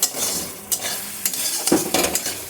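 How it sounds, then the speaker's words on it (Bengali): Spices and tomato are stirred in a hot frying pan, with coriander and turmeric powder added, giving a steady close sizzle broken by several sharp scraping strokes of a spoon against the pan. "নাড়াচাড়া করে ঢাকনাটা দিয়ে দিচ্ছি"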